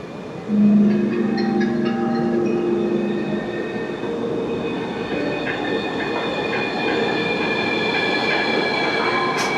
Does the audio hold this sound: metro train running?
yes